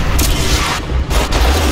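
Loud, dense blasts of a gauss cannon firing in Crysis 3, booming and crackling continuously with a few sharper bursts.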